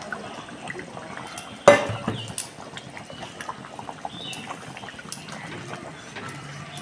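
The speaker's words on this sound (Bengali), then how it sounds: "এবার আমি টমেটো গ্রেটটা দিয়ে দেবো" Grated tomato drops into meat cooking in a pan with a sudden wet splash and sizzle, followed by quieter bubbling and stirring sounds.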